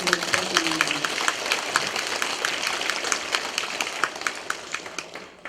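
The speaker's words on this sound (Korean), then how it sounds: "격려의 박수 한번 부탁드립니다." Audience applause of encouragement at a Won Buddhist Bonggonghoe national officers' training lecture: a dense, steady wash of many hands clapping that tapers off toward the end, with faint voices underneath.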